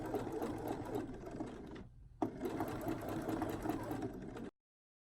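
A sewing machine edge stitches a pinafore, running in a steady rapid whir, pausing briefly midway, then resuming before stopping abruptly.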